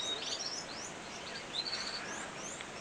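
A hen bird calling in a birdroom, with quick high chirps and twittering phrases repeating over soft room noise, moderately close.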